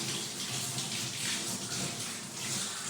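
Tap water runs steadily over fruit being washed at a home sink, a continuous broadband splashing rush that stays close and fairly even from start to finish with no voices.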